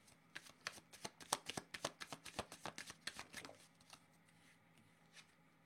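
Oracle cards shuffled by hand in a quick run of crisp riffling flicks for about three seconds, then a short quiet pause with one faint tap near the end.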